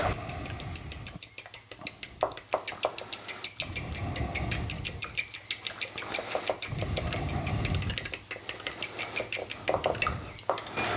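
A whisk beats eggs with a little strong cheddar in an all-in-one cooking pan for an English breakfast: fast, steady metallic clicking over about ten seconds, close and fairly loud, with a low background hum.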